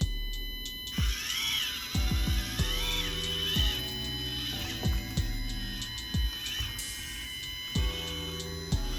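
A failing steering servo on an RC crawler gives repeated short whining and buzzing bursts with clicks and stuttering electronic tones over a constant background hum.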